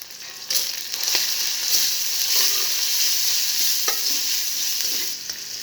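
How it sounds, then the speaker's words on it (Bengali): Ground spices, including coriander powder, fried slowly in oil for duck curry, a close, steady sizzle broken by occasional scrapes and clicks of a stirring spoon. "এটা আমি আস্তে আস্তে তেলের সঙ্গে সুন্দরভাবে ভেজে নেব"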